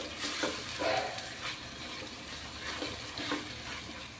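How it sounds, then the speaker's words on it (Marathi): Coriander paste cooks in oil over a low flame for chhole, giving a soft, quiet sizzle with gentle stirring and scraping sounds that come and go at an easy pace. "तर व्यवस्थित आता हे वाटण सुद्धा आपल्याला तेलावरती मंद आचेवर परतून घ्यायचं आहे"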